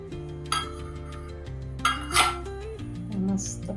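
A pressure cooker lid being taken off, a few metallic clanks and clinks against the pot, close and fairly quiet, with a faint steady hum underneath.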